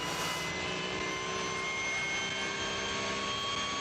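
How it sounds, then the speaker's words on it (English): Porsche GT3 Cup race car at Nürburgring 24h qualifying, a loud sustained engine roar with a steady high-pitched whine, dense and continuous throughout with no pause. "Now that is the sound of a Porsche."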